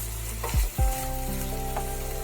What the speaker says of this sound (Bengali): সবজির সাথে একটু নেড়ে নিচ্ছি